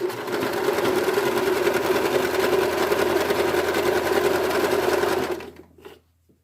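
A sewing machine stitches a knit skirt in one continuous fast whirring run for about five seconds, loud and close, then winds down and stops.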